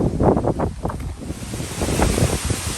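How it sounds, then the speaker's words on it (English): Strong wind gusts buffet the microphone with surf breaking along the shore during Hurricane Ida at Waveland, Mississippi; a steady roaring wash of air and water with rising and falling gusts, no voices. "There we go with some bigger winds, and my chair is moving about."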